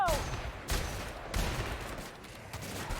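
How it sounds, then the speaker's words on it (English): Gunfire in the video game The Outer Worlds, a few sharp shots spread across a low rumbling backdrop, moderately loud, with no one talking. "That's your warning shot."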